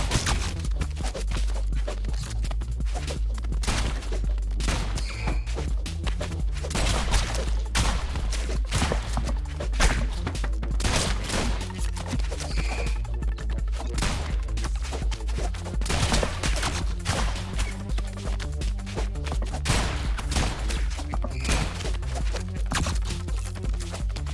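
Dense, continuous gunfire from the video game ROUNDS, with rapid overlapping shots and bursts crackling loudly throughout alongside a driving background music bed.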